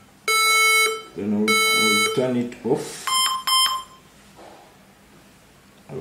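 HP ProBook 430G8 laptop with no RAM installed, emitting a repeated pattern of loud, sharp electronic beeps as a power-on error code, with a voice speaking briefly between the tones.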